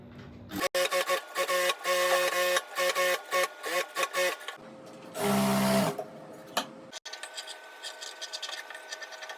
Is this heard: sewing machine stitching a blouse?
yes